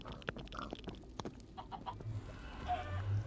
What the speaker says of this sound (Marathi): कोंबडी पण.